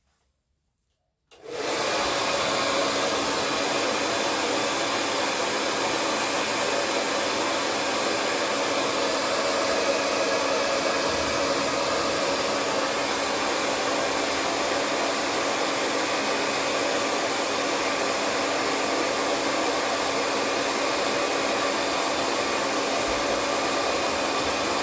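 A hair dryer switches on and runs with a steady, loud, unbroken whoosh and whine while heating the joint of a NECA The Thing action figure, with no talk.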